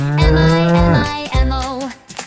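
Cow mooing within a cheerful nursery rhyme about a magic farm, two loud drawn-out moos close up, a second shorter one following, likely sung or voiced in a playful children's-song style.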